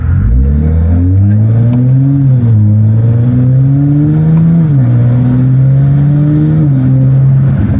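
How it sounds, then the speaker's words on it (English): A Toyota Supra B58 engine with upgraded intake and charge pipe climbs in pitch as it accelerates, with a loud whining turbo note over the roar, then settles into a steady loud drone with crackles. "Oh my god, you can hear the turbo."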